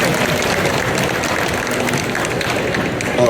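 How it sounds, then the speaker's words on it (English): A crowd at a Star Wars: The Clone Wars fan convention panel gives a sustained round of applause, a thick, even wash of many hands clapping that holds loud and steady throughout. "Round of applause."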